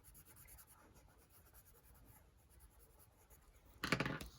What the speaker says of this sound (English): Pencil, color it in.